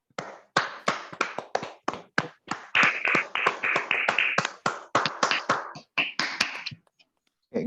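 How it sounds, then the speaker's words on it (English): A small audience at a Toastmasters club meeting in Bangalore claps for the incoming table topics master: a run of distinct, close hand claps with an uneven rhythm, thinning out and stopping shortly before the end, with no talking. "Please give a big round of applause for him."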